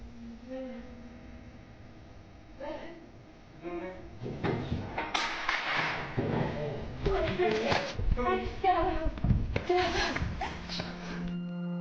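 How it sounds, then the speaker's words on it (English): An interior door in a home swinging open on its own, heard as soft knocks and shuffling bumps mixed in among frequent speech, ending on a faint sustained tone. "An interior door suddenly swung open on its own, causing real fright."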